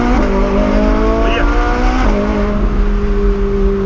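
A Ferrari accelerates hard close by, its engine note rising in pitch through a couple of gear changes, with some tire squeal over a loud, constant roar.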